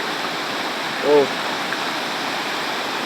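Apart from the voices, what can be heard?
strong rushing current of Mayhay River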